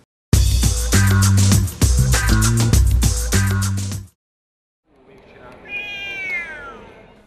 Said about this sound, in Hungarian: Háromnapos nemzetközi macska kiállítás volt a hétvégén itt Székesfehérváron.